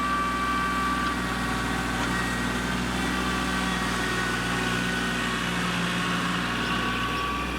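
A Kubota L3200 compact tractor engine runs steadily under load while working a front loader on a dirt bank, a loud constant drone with a low steady throb and no talking.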